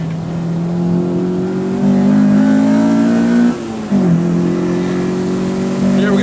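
A 1998 Acura Integra Type R DC2 engine revs loud and close on a spirited drive, pitch climbing steadily, briefly dropping off as revs fall, then rising hard again.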